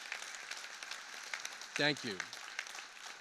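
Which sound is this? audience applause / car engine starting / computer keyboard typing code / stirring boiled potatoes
audience applause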